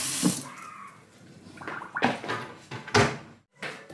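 Dishes being washed in a kitchen sink: splashing running water, clattering plates and a few sharp knocks of dishware in irregular bursts, close by, without talk.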